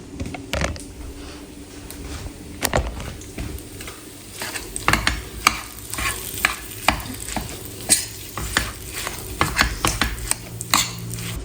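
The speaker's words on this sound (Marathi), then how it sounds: "जे परतवते ना मी खजूर तर ते एकदम सॉफ्ट झाले पाहिजे पूर्ण असा एकजीव झाला पाहिजे" Dates are stirred in a pan until soft for homemade protein bars, with rhythmic spatula scrapes and knocks against the pan over a faint sizzle, close and continuous, with no talking.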